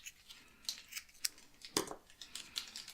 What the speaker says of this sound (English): Go ahead and trim this ribbon down a little bit.